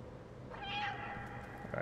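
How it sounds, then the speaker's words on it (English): A cat meows inside a video game, a drawn-out tonal cry rising and bending once near the middle, with a shorter second call at the end over a steady low game background. "look at the cat"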